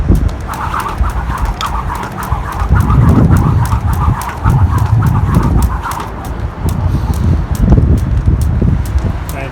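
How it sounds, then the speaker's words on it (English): Breezy wind gusting outdoors, a low rumbling buffet that swells and fades in waves, with chickens clucking nearby and a rapid, steady ticking of a skipping rope over it. "Sometimes the wind slows the spinning of the rope."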